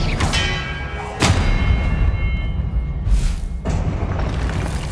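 Spells cast in the Hogwarts Legacy video game: heavy booming magical blasts with a ringing, bell-like shimmer, three separate bursts over a constant game background.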